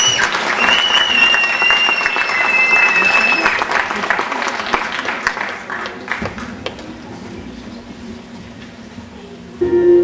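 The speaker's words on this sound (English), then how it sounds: "Please give her a big round of applause." A talent show audience applauds loudly with dense clapping that fades out, followed by a quieter room with a faint tone at the end.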